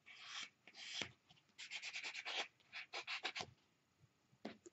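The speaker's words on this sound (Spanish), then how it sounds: "necesita el buffer, pasarla para que su wrap quede más sellado" A nail buffer rubbed over a nail wrap to seal it gives faint, close, dry rasping strokes in quick repeated bursts, with brief quiet gaps between passes.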